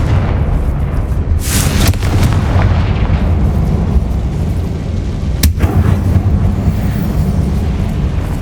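The Confringo fire spell goes off in the Hogwarts Legacy video game inside a mine, a loud booming blast rolling over a dense rumbling backdrop, followed by a second sharp burst a few seconds later.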